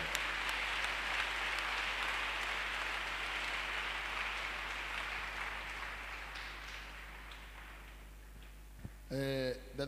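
A congregation at a Friday evening prayer meeting applauds Jesus in sustained, dense clapping that holds steady and slowly thins, with a voice coming in near the end.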